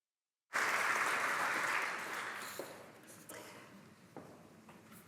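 An audience applauds to welcome a professor to the stage at a Holocaust memorial lecture, a full burst of clapping that starts abruptly and then gradually thins and fades, with a few scattered claps near the end.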